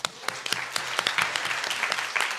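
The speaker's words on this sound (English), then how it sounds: "Give yourselves a round of applause." An audience at a maternal health community event applauds itself, a steady crowd of clapping hands with sharper individual claps standing out, sustained and fairly close.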